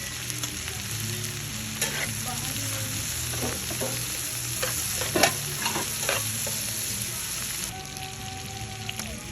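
Garlic, tomatoes and a little meat stir-fry in a pan for shrimp paste, with a continuous close sizzle broken by repeated scraping and stirring clatters.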